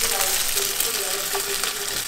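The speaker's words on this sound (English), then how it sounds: "we're over here frying some eggs" Eggs frying in a pan in a home kitchen late at night, a steady close sizzle with faint crackles running throughout, no talking over it.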